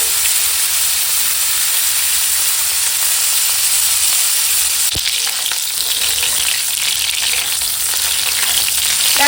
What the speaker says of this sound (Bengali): ওই মাছ ভাজার তেলেই এখন ফুলকপিটা ভেজে নেব দেখো